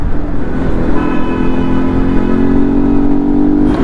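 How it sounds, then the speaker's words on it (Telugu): A vehicle horn sounds in Bengaluru night city traffic, a sustained tonal blare starting about a second in and holding to the end over a loud rumble of engines and road noise. "మళ్ళీ హార్న్ కొడుతున్నాడు."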